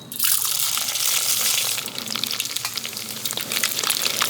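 Mustard seeds and urad dal fry in cold-pressed sesame oil, making a loud, steady, close sizzle with bursts of crackling and spattering that run all the way through, with no voices.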